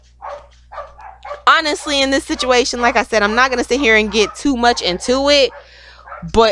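Dogs barking in a home in the background, quick repeated barks mixed under a woman's continuous close speech.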